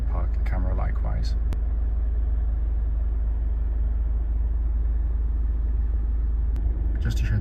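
Honda CR-V 1.6 i-DTEC diesel Black Edition idling, heard from inside the cabin as a steady low rumble; a voice talks briefly at the start and again near the end.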